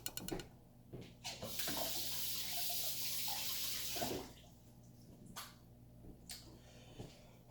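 Tap water runs steadily as food is rinsed under it, a close, hissing stream of a few seconds framed by clatters and light handling noises before and after.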